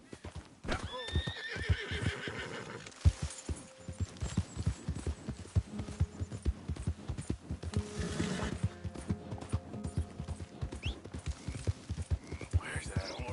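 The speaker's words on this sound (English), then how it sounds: "Where's that horse got to?" A horse in the Western video game Red Dead Redemption whinnies loudly near the start, then hooves clip-clop steadily throughout while other game ambience rumbles underneath.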